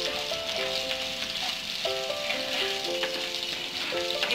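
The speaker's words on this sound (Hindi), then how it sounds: "इसे इस तरह से मिक्स करते हुए हमें जिंजर गार्लिक पेस्ट को भी प्याज और हरी मिर्च के साथ पकाना है" Ginger garlic paste fries with onion and green chili in hot oil, giving a steady close sizzle and crackle over soft background music.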